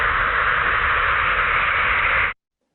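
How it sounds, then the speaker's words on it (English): Earthquake data sonified with Python into a loud, steady hiss like white noise that holds evenly for a little over two seconds, then cuts off abruptly into silence. "it just sounds kind of like white noise a little bit"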